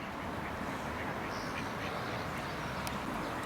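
Ducks quack close by amid a dense, noisy outdoor background, their calls overlapping in a busy flock.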